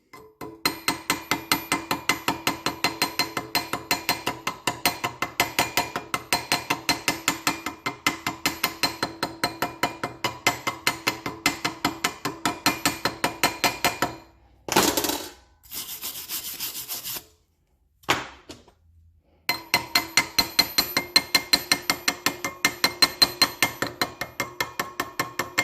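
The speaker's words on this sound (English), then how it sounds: "then we'll go after it with a slag hammer" Slag hammer chipping slag off a flux-core weld bead, a fast steady run of close, sharp metallic taps, broken by brief scraping and a short pause before the rapid tapping resumes.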